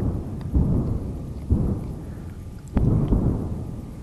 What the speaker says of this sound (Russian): Вот с того направления слышны взрывы.